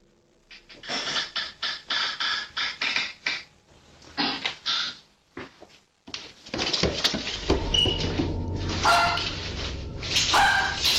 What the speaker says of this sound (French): Son chien semble le remarquer, car il aboie lorsque les craquements se font entendre.